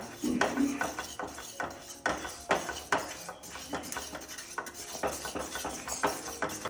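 Rusk halwa being stirred steadily in a cooking pan, giving a continuous run of rhythmic metallic scrapes and clinks at close range with no voice.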